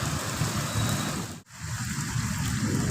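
Heavy rain pours during a stormy night with strong wind, a dense, steady hiss and patter, briefly cut by a short dropout, with no voices.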